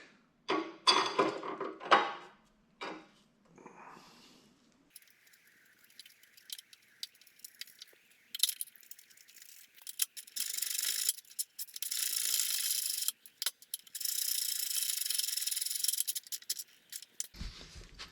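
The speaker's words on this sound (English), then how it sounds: "we're bolting up the freshly painted light mount for the back of the" A freshly painted rear light mount being bolted onto a Predator Ghost mini bike: scattered close clinks, taps and ratcheting clicks, with busier rattling bursts in the second half and no speech.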